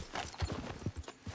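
Horse hooves clip-clop at a steady trot in the open-world western game Red Dead Redemption 2, close and fairly loud, with a faint whinny-like trace and no talk.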